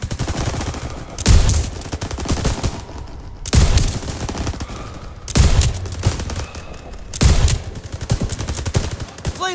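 Heavy machine gun fire in Call of Duty: WWII at a bridge, coming in four loud, distinct bursts separated by short lulls of battlefield rumble.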